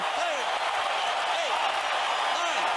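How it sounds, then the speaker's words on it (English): A boxing arena crowd roars steadily after a knockout, a dense, sustained wash of cheering and noise, while a commentator speaks over it. "That's the biggest moment of the night for the crowd. They're going wild."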